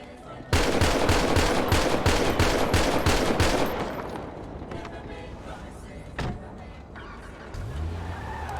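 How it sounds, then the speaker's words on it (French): In a video game, a rapid burst of automatic gunfire rattles loudly for about three seconds at a player, then fades into quieter vehicle and ambient noise with a brief thump near the end. "Je vais lui tirer dessus."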